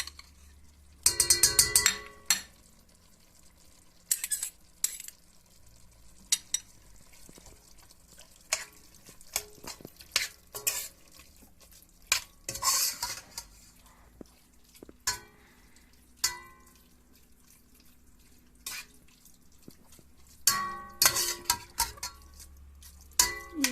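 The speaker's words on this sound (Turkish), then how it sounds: "iyice karıştırıyoruz" A spoon stirs tomato and pepper paste in a cooking pan for pasta sauce, giving intermittent scraping and clinking strokes with quiet gaps between them, close and moderately loud.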